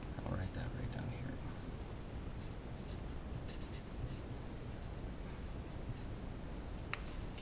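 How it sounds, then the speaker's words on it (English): Physics equations on an ideal gas and a mass on a piston are written out by hand in scratchy, intermittent strokes, faint and close, with quiet background noise. "I'll write that right down here."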